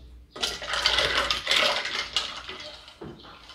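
Ice and lemon juice with ginger being stirred in a jug for fresh lemonade, a busy clattering swirl of ice knocking against the container for about three seconds, then a short pause and a final clink, with no talking.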